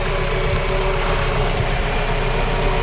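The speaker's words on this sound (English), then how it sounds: "Now this engine has been running like this for years, so things are messed up." A 1995 Mercedes W210 engine idles while running extremely rich, giving a steady, close, continuous low rumble with a slightly uneven throb and no talking.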